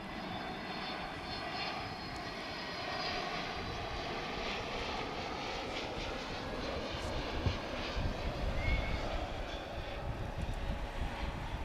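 Turkish Airlines airliner taxiing at Dallas/Fort Worth Airport, its steady engine roar filling the air at moderate distance, with a broad continuous hum that swells slightly toward the end.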